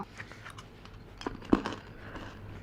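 Chewing gum worked in the mouth close to the microphone, producing soft, irregular wet clicks and smacks with one sharper snap partway through.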